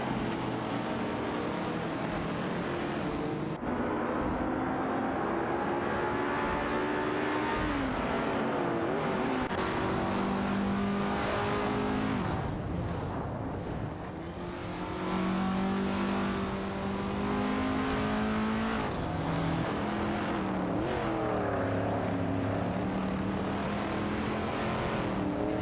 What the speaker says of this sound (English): Bobado in the Shelby GT 350 is battling the Gentleman, who also pilots a Ferrari 250 GTO.